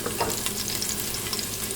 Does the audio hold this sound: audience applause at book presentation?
no